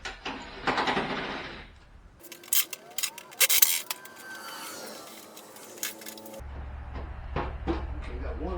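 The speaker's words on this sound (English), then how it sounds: "Let's just start taking out screws up here on this end, around this box" Screws are backed out of a Shopsmith box, giving irregular clicks, scrapes and squeaks of a driver turning close by, with quiet stretches and a person talking in between.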